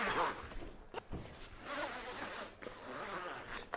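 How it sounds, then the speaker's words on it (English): A close zipper pull closes anti-entrapment bumper padding on a rail, a few short rasping zips with brief pauses and fumbling between them, no voices. "connect the zip and zip up."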